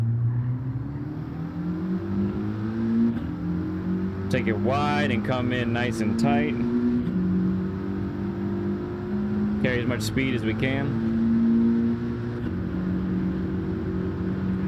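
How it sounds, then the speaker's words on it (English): In Gran Turismo 7, a Mitsubishi Lancer's engine drones and revs continuously with shifting pitch through a race, while someone talks over it in two short bursts. "I do like how this Lancer sounds."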